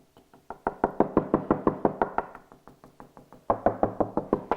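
Knuckles knocking on a dot-and-dab plasterboard wall, a fast, steady run of dozens of hollow, close knocks that briefly soften then return louder and duller over the dab, with no talking.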